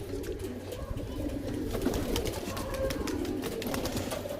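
Many pigeons in a loft cooing: soft, low, overlapping coos repeating continuously at close range over a gentle rustling background.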